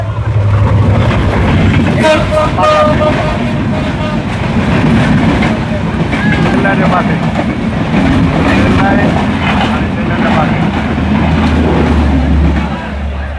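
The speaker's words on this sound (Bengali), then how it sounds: "আর পাশ দিয়ে ট্রেন চলে আসছে" A train rumbles past loudly and close beside a riverside fish market near a railway station, a steady heavy roar with rattling wheels that holds for several seconds before easing slightly.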